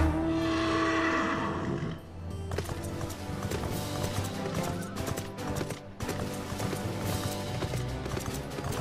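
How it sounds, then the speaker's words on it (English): Hooves clip-clop at a steady trot in Final Fantasy XIV: Stormblood under busy game music and effects, with a brief whinny-like sound early on. "Get on my horse."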